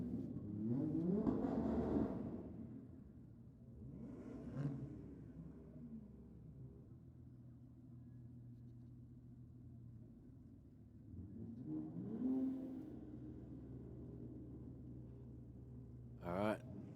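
Golf R and BMW 3 Series cars launch and race down a drag strip at a Sydney night meet, engines roaring in repeated loud surges of acceleration that fade away, with a sharp burst near the end.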